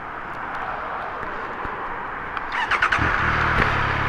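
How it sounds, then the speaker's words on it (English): A Triumph 1200 RS motorcycle is started by remote key fob: a brief starter whir over steady background rumble, then the engine catches into a close, throbbing idle. "you just press these buttons and the bike just comes to life"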